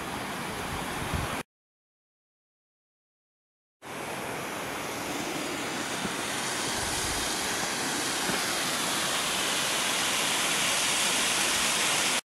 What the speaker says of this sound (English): the waterfall goes down there